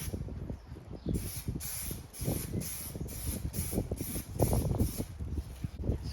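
Plasti Dip aerosol coat sprayed onto a Tesla Model 3/Y emblem on a hot day, a steady airy hiss running in repeated short bursts of about half a second, close and fairly loud throughout.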